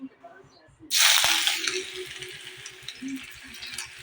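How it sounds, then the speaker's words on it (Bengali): Chopped onion dropped into hot mustard oil in a heated kadai bursts into a loud, bright sizzle that stays steady and close, fading only slightly, with a faint rhythmic background hum. "তেলের ভিতর দিয়ে দেব কিছুটা পেঁয়াজ কুচি।"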